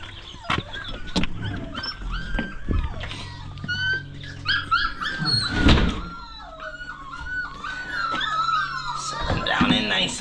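Puppies whimper and yelp in a farm setting, high thin whines rising and falling in repeated bursts close by, mixed with door and movement clatter while someone talks over them.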